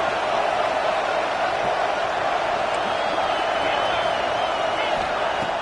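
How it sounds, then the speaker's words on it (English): A football stadium crowd roars steadily during a goal-line defensive stand, a dense, continuous wash of cheering and noise with no clear breaks. "And here comes the noise. This crowd is trying to inspire this defense to make a big red zone stop."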